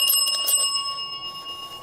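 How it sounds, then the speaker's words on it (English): A bell device mounted near a cross at a campsite rings with a bright, sustained metallic tone, a quick burst of strikes at the start, then a steady ringing that lingers and fades. "It's a bell. If you touch it, it will just make a normal bell sound."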